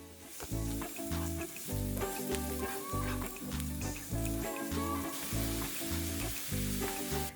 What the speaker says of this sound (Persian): بعد اینکه روغن داغ شد پیاز نگینی خورد شده رو اضافه میکنم و همراه روغن تفت میدم تا پیاز نرم و سبک شه